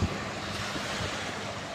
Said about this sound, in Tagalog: Yung lakas yung alon dito at saka hangin mga kalods